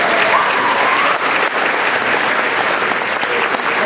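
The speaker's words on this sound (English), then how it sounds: "And one more round of applause for the junior high band." Loud, sustained audience applause for a junior high band at a school winter Christmas concert, a dense crowd of hands clapping steadily without pause.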